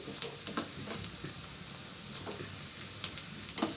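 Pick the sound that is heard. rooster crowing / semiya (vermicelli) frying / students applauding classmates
semiya (vermicelli) frying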